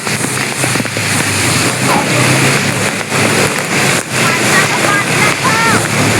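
Rain-soaked beach scene with steady broadband rushing of water and rainfall, loud and continuous throughout, with voices talking faintly in the background.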